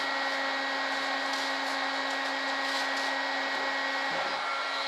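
A heat gun roars steadily and close by, a constant airy whoosh with a humming tone, while heating foam for an RC F-105 Thunderchief jet build.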